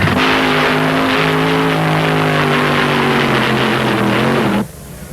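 Funny car drag race at the 1972 UDRA Spring Nationals, Gene Snow's Dodge against Ben Griffin's Plymouth-powered Ford Mustang: a loud, sustained engine roar that holds steady for over four seconds, then cuts off abruptly.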